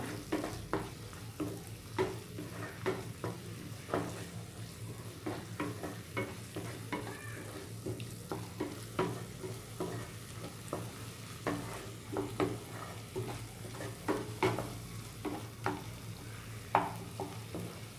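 Tomatoes sautéing in a pan for a roasted-coconut egg curry, stirred steadily with regular scrapes and taps of the spoon over a constant low sizzle, close and moderate in level, with no voices.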